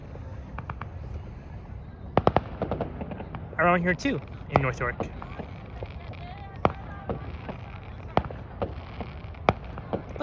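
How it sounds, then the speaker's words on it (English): Far-off Victoria Day fireworks over North York, Toronto, go off as irregular sharp pops and thuds, a few close together, with someone talking briefly midway through. "I see fireworks just off in the distance."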